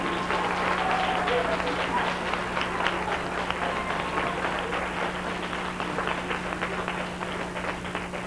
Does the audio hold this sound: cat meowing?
no